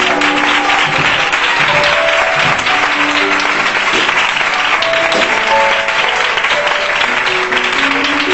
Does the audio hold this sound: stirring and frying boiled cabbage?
no